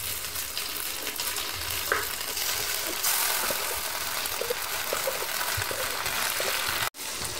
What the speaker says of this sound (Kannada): ರುಬ್ಬಿದ ಅಕ್ಕಿ ಹಿಟ್ಟನ್ನು ಹಾಕ್ಕೊಳ್ಳುವ